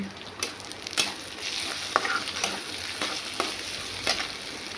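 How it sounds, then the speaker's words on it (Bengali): Garlic fries in a pan for a Bengali katla fish curry, giving a steady close sizzle broken by repeated scraping and clinking strokes of a stirring spoon against the pan, with no talk. "রসুনটা দিয়ে ভাজছি ভালো করে একটু।"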